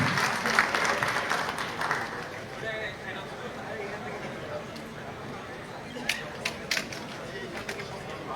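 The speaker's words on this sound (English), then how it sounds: "A big round of applause for all of them" An audience at the Investment Summit Bangladesh 2025 claps for the panel, the applause fairly soft and fading, with chatter and a few sharp knocks and creaks near the end.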